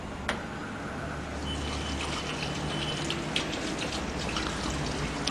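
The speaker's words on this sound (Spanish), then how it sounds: "Para completar el llenado, debemos procurar que la gasolina alcance hasta el nivel que indica dentro del tanque de la fumigadora" Gasoline trickles and splashes steadily into the fuel tank of an insect-control fogging machine, a faint continuous pour with a couple of sharp clicks near the start.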